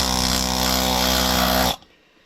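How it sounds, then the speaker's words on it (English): Steady, loud power-tool-like grinding of old paint and rust being scaled off a metal frame, continuous for under two seconds before cutting off abruptly into near silence. "keep scaling that old paint and rust"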